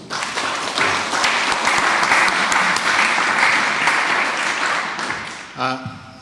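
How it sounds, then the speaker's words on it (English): An audience at a symposium on commons and cooperation gives a speaker warm, sustained applause that swells and holds, then breaks off as a voice begins near the end. "So please join me to give Yochai a warm applause."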